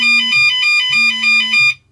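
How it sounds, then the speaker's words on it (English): Low voltage alarm from a Flysky PL18 radio transmitter: two loud electronic beeps in a row, each a steady high tone, the second longer, close up with no other sound. "it's going to trigger the alarm that we've got set in here"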